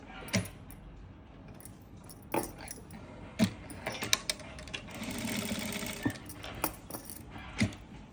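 Sewing machine stitching a salwar, heard as bursts of mechanical running broken by short taps and clicks, close and moderately loud with no voices.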